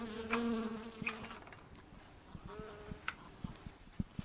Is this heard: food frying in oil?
no